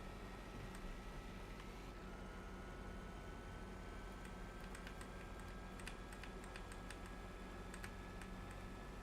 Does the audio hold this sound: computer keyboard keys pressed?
yes